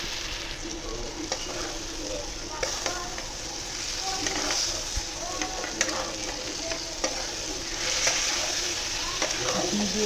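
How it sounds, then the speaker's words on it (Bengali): Chicken pieces dropped into a ghee-fried masala sizzle steadily while being stirred, with scraping spoon clatters and bubbling frying noise close up throughout. "এবার চিকেনটাকে আমি দিয়ে দেবো, যাতে এটা মশলাটার মধ্যে চিকেনটা দিয়ে দেবো"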